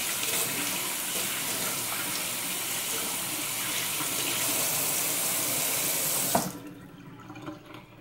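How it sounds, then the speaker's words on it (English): Hands being washed under a running kitchen tap during burger prep, a steady close broadband rush of water that cuts off abruptly near the end, leaving a few faint drips and clatters. "Wash my hands real quick."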